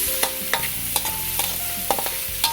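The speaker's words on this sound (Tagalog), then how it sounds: "hihintayin lang po natin na medyo mag-brown ng konti yung ating sibuyas" Onions sautéing in a pan for Filipino ginisang Baguio beans with beef, a steady sizzle broken by sharp scrapes and clacks of a utensil stirring at close range.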